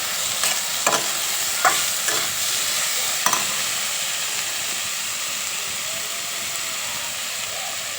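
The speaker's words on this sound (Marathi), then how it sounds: "लसूण आलं आणि हे टोमॅटो टाकणार आहोत थोडंसं परतायचं टोमॅटोला काही जास्ती नाही पण हे छान असं परतून घेऊया" Garlic, ginger and tomatoes sautéing in a pan over a wood-fired stove, a steady sizzle and hiss with a few sharp scraping stirs near the start, close and without talk.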